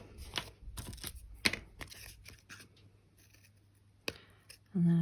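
Scissors trim around a paper junk journal card with a series of crisp, close snips and paper rustles, then a short pause and a few more cuts near the end.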